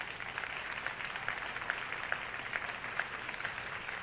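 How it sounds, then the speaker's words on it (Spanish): Sustained audience applause from a crowd at a multidisciplinary cancer forum panel, steady dense clapping throughout with no speech over it. "yo quiero pedirles un aplauso para nuestros panelistas."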